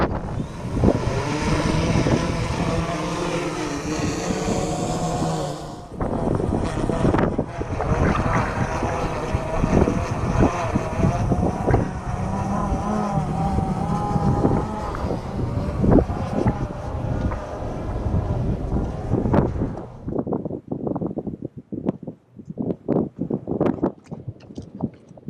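Strong wind sweeps across open desert outside El Paso, roaring and buffeting hard against the microphone in a loud, continuous rush that breaks into choppy gusts near the end.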